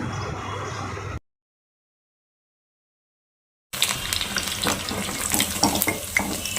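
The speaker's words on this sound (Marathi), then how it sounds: "दोन्ही बाजूने चांगले क्रिस्पी होईपर्यंत आपण लॉलीपॉप असेच फ्राय करून घेणार आहोत" Veg cauliflower lollipops deep-frying in hot oil give a steady, dense sizzling hiss up close, broken by a stretch of total silence before the bubbling returns louder.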